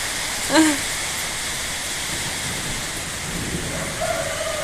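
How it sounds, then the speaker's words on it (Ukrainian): Steady, dense hiss of heavy rain fills the clip, with a brief goose call near the start and no speech. "знову дощ"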